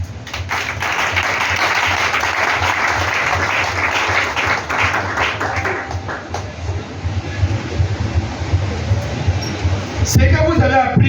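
A church congregation applauds loudly and steadily in dense clapping that thins out after a few seconds, with a low rumble underneath and some noise near the end.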